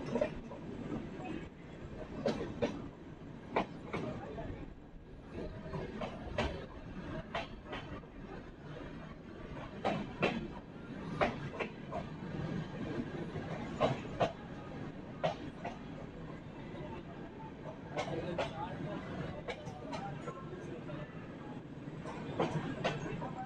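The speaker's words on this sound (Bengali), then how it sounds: "ট্রেন এখন এসে পৌঁছালো বোলপুর স্টেশন।" An Indian passenger train rumbles on its way toward Bolpur station, with steady wheel noise and repeated clacks over the rail joints. A few voices are heard faintly in the carriage.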